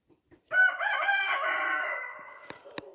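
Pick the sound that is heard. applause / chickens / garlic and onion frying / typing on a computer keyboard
chickens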